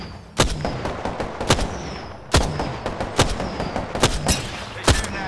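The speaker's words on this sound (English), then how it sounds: "They're shooting at me" Enemy gunfire in the battle royale game Apex Legends: a series of sharp, loud shots and booming impacts, some in quick pairs and others spaced apart, cracking out over a busy game-ambience background.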